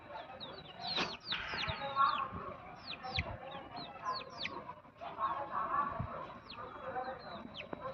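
Hens of the Bhimavaram breed cluck repeatedly at a poultry sale, with sharp chirps and clucks rising over a busy background of overlapping birds and a talking voice, steady throughout.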